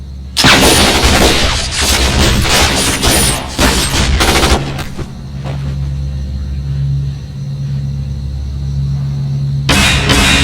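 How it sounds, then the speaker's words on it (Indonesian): Rapid bursts of heavy gunfire crackle loudly for several seconds, then give way to a low rumbling drone before another burst erupts. "Dengar tembakan itu."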